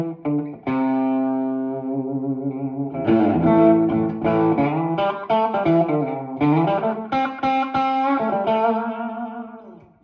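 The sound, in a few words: guitar with Octopus slapback delay pedal and reverb, country tone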